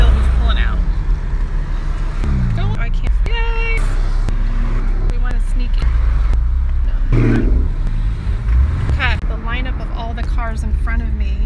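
Several Porsche sports cars pull away one after another in a convoy, engines rumbling and revving at close range as they move off, with people talking and cheering over the traffic noise throughout.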